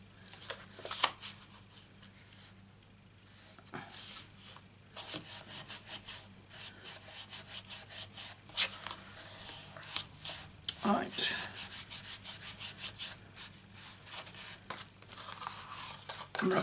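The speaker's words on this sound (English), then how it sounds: "Rub that up really hard." Paper coated with glue being rubbed hard onto a handmade tissue box, a quiet, steady dry scraping and brushing in short repeated strokes, with a few soft knocks.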